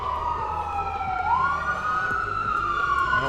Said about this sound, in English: That was just an ambulance.